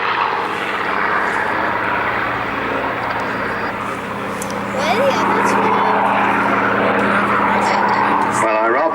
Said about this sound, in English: I think that rolling departure from the Spitfire means that the Hurricane will shortly be with us